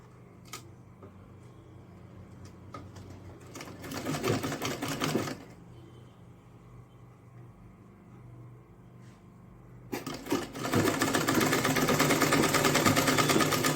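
A sewing machine stitches a small folded piece of Ankara fabric for a purse. Two close bursts of rapid, steady whirring run a few seconds each, separated by a quieter pause with faint handling sounds.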